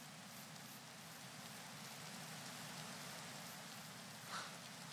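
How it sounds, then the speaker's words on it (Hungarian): Rain falls steadily in a Minecraft world, a soft, even hiss of drops that holds at low volume throughout, with a brief faint blip near the end. "mert esik az eső."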